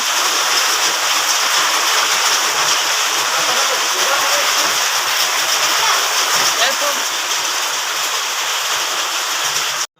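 Monsoon rain pouring down steadily on a village, a dense continuous hiss at close range with no breaks, ending abruptly.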